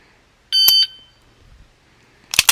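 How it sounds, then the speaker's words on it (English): Two sharp electronic beeps from a shot timer, a clear tonal one near the start and a second, harsher burst at the end, separated by quiet. "I'm going to hold it to the wall and I'm waiting to hear that beep"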